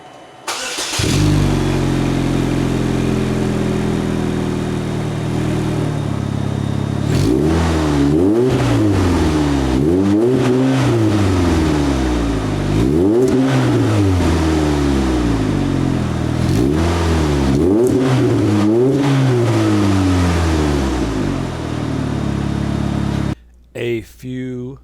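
A 2008 Chevrolet HHR engine with an aftermarket exhaust starts up and runs, settling into a steady idle broken by repeated rising and falling revs, loud and close, with voices talking over parts of it.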